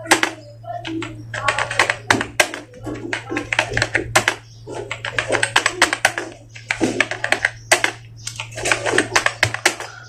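Rapid, irregular clatter of keys on a computer keyboard as Hindi is typed in Mangal Inscript, close and clear. Bursts of keystrokes come with short pauses between them, over a steady low electrical hum.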